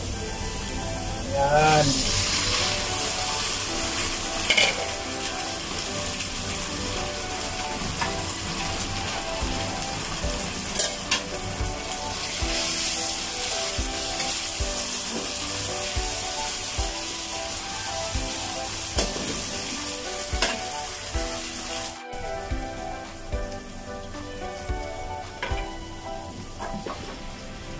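Marinated beef sizzles steadily in a hot pan for a beef oyster sauce dish with string beans and pechay. Frying hiss and occasional stirring continue throughout, with a voice speaking briefly over it.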